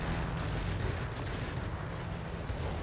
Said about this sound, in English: Can I get this knocked out with my cannon?